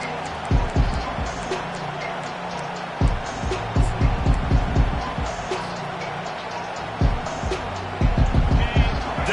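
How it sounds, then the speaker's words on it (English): A large home crowd at a college football game, Clemson at Nebraska, roars in a continuous wash of noise, with sharp bursts and thumps rising and falling above the sustained din. "Decibels rising as the crowd gets behind this defense on 3rd down"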